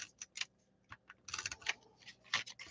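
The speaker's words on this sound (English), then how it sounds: "I'm putting just a little bit of the tape runner on each of the tabs." A tape runner lays adhesive onto the tabs of a paper gift box made from designer series paper, heard as quiet, close, irregular clicks and short scratchy bursts with no talk.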